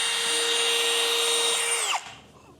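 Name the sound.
power drill drilling holes in wood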